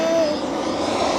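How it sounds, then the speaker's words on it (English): An airplane flying overhead, a steady broad engine drone filling the whole moment with a faint whining tone over it, fairly loud and continuous. "there's your daddy flying a plane"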